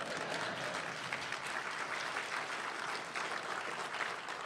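Steady, dense applause from a political conference audience fills the room at a constant level, with no talk over it.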